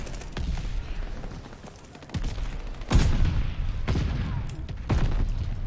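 Video game combat: broadband bursts of gunfire punctuated by several heavy grenade blasts, the loudest near the middle and again toward the end, continuous and close with faint talk underneath.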